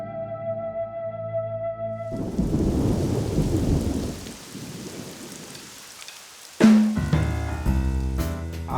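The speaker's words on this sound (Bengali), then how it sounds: "যা বৃষ্টি" Heavy rain pours in a dense, steady hiss while thunder rumbles through a storm, ending in a sudden loud crack followed by ringing tones.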